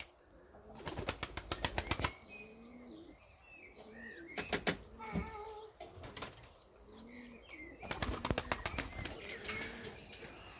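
Pigeons flap and flutter up to a hand offering mineral powder, with bursts of loud wingbeats near at the start, middle and end and soft cooing in between.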